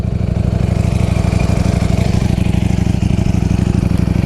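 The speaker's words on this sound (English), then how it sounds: "Might as well throw a couple of revs in there, man." A 2020 Ducati Streetfighter V4 S motorcycle engine runs loud and close, with a rapid, even pulsing throb that holds steady throughout.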